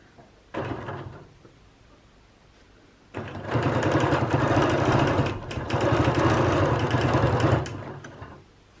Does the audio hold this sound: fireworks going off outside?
no